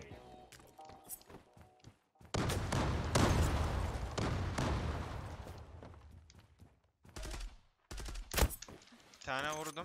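Bursts of gunfire from the Turkish online shooter Zula during a clan-versus-clan competitive bomb match, loud and dense broadband volleys with sharp cracks, sparse footsteps and short gaps between rounds.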